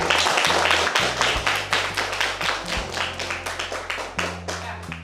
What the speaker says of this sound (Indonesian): kita beri tepuk tangan semuanya